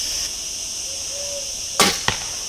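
An arrow loosed from a bow strikes a target with one sharp close impact, followed moments later by a second, lighter thud, over a steady high background hiss.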